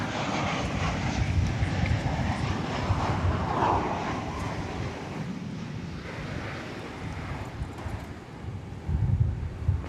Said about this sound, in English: That would be American Flight 1340 from Fort Lauderdale. 737-800.